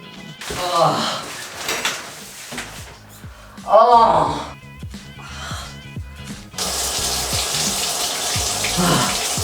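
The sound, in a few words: cold shower water running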